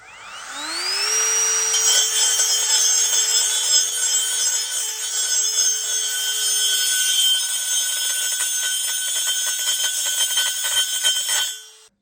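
A Dremel multi-tool whines up to a high steady pitch and cuts for about ten seconds, grinding and chattering as it bites through, then spins down abruptly, loud and close.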